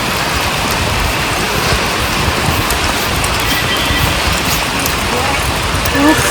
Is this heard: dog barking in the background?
no